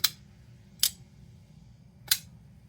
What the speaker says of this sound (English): We get a nice clacky snap up and a nice ting on the way down.